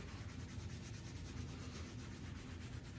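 Hands gently scrubbing over the chest during a qigong session make a soft, steady rubbing of skin and clothing, faint and continuous with a slight back-and-forth pulse, no voices.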